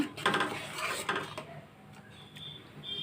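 A spoon stirs cardamom powder into payasam made with Gooday biscuits, giving light clinks and scrapes against the pot in a short busy burst that fades to quieter rubbing.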